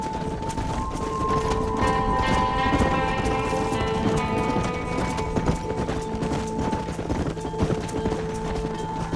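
A herd of horses gallops across open range in the Red Dead Redemption video game, hooves pounding in a dense, continuous clip-clop drumming, with occasional whinnies and faint distant shouts under the rush.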